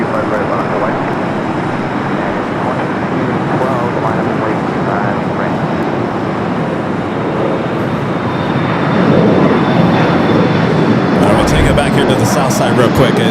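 An airliner taking off from runway 25 right at Los Angeles International Airport: a steady, loud jet roar that swells noticeably partway through, with radio-style voices talking underneath.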